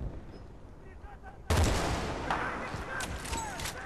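Gunfire in the multiplayer video game Battlefield Bad Company 2: after a quiet stretch with faint distant sounds, a loud burst of shots and explosions erupts and keeps rumbling, with a player's voice talking faintly over it.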